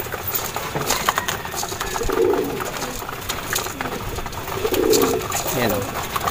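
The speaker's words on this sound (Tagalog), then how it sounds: "Ayan sila mga kalapatids." Racing pigeons coo in a loft: two soft, low coos spaced a few seconds apart, close by, while someone talks over a faint background hum.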